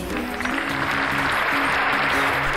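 An applause sound effect gives a brief, steady patter of clapping over a soft tonal musical backdrop, lasting under three seconds at moderate volume.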